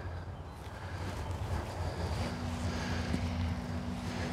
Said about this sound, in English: That wind's helping it turn.